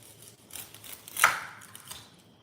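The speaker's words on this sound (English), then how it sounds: "So we're going to start cutting up an onion as well." A knife chops an onion on a cutting board in a home kitchen, giving a few soft irregular cuts and one sharper, louder chop near the middle, close and with no talking.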